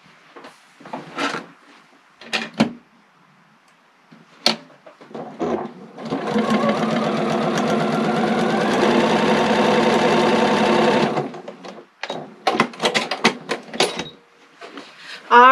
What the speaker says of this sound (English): you're going to stitch on that line. You're going to stitch on that drawn line from one corner to the other